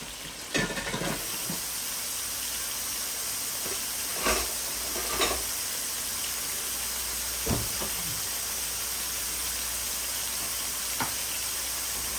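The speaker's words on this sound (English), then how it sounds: "So you want to make sure you sear them good on both sides." Burgers searing in a pan in their own grease give a continuous broad hiss and sizzle throughout, with a few faint clinks, close and steady, and no talking.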